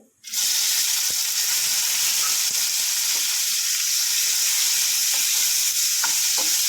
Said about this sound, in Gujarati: હવે આપણે જીરું નાખશું 1 ચમચી. અડધી ચમચી હિંગ નાખશું અને 1 ટમેટું મેં સુધાર્યું છે એ નાખશું.